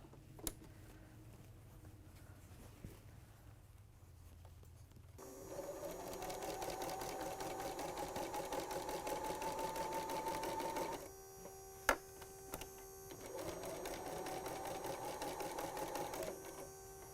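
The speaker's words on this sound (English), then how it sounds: "I'll take it to the sewing machine and do that" A home sewing machine stitches the band of a pleated apron in two steady runs, its motor whirring and needle ticking rapidly, with a short pause and a sharp click between bursts.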